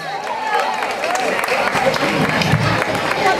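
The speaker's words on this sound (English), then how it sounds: "Give him a round of applause." Audience applause at a Word Parade show, dense clapping mixed with crowd noise and some cheering, sustained and fairly loud, with voices underneath.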